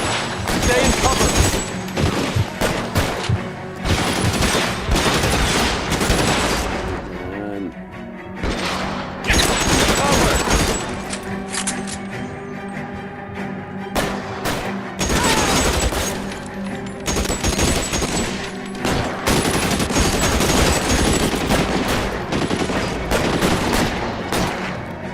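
Gunfire from a shootout in the video game L.A. Noire, dense bursts of shots and automatic fire recurring throughout under game music and dialogue, with loud blasts and crashes clustered in several waves.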